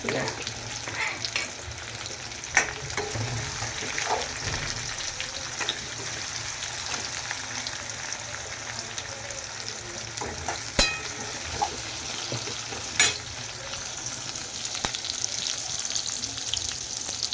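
Thinly sliced onions fry in a pan of oil for spinach dal. A steady close sizzle runs throughout, with occasional sharp ticks and spatters and no voices.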